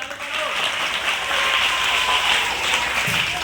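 An audience at a fair applauds, dense sustained clapping throughout, loud and close, with voices mixed in.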